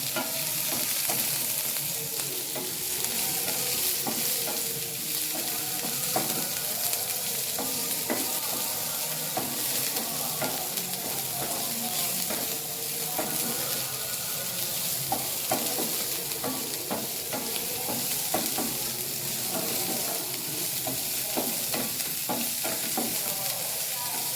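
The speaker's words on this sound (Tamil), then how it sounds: "வெங்காயத்தை போட்டுட்டு அதை நல்லா வதக்கிக்கலாம்." Onions sautéing in a pan for a kadalai curry, with a continuous sizzle and frequent stirring clinks and scrapes throughout, moderately loud and without speech.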